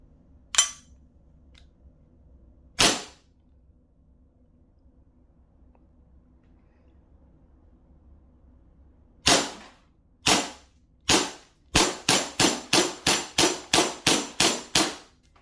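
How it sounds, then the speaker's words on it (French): Walther P99 2-joule airgun firing 6mm pellets: sharp cracking shots, two spaced early, then after a long pause a rapid string of about a dozen evenly paced pops until the magazine empties, close and crisp without speech. "On va commencer par le Walther 2 joules."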